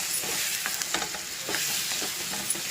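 Flat beans and tomato curry frying in a pan, a steady close sizzle under a spoon stirring and scraping through the mix in a few short strokes.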